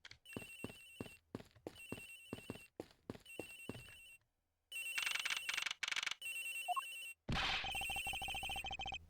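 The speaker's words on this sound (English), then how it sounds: "The ringing's coming from somewhere in here, sir." A cell phone rings in the Ace Attorney Investigations video game, sounding in loud repeated bursts of electronic ringing separated by short gaps, then turning into a longer, denser ringtone phrase with no talk.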